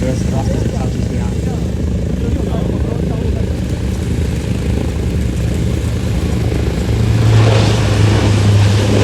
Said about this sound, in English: Just listen to those props going to reverse thrust as it touches down.